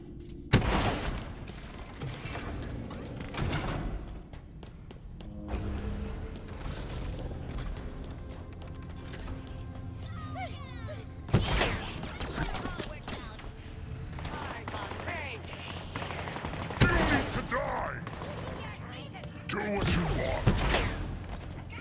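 Rapid gunfire from a weapon in the Halo Infinite campaign, with thumping shots and booms layered over dense, busy game sound across the whole stretch, several louder bursts standing out, with a voice that seems to be speaking underneath.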